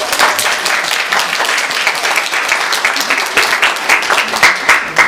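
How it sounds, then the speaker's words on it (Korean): A church congregation at a Sunday service applauds, a steady, dense burst of many hands clapping together that carries on evenly from start to finish. "여러분들께서 좀 격려해 주시고 함께 박수를 한번 축하해 주시면 좋겠습니다"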